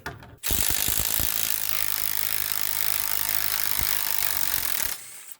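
A ratchet and hammer work a bolt loose with a 17 mm socket during lower control arm replacement on a 2012 Mazda CX9, a quick burst of clicks and knocks followed by a loud sustained grinding rattle that stops abruptly.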